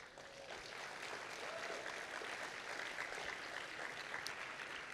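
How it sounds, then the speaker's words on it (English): Applause for founders at a university pitch competition: a continuous wash of many hands clapping, faint and distant but even and sustained from start to finish. "Let's give them all a round of applause."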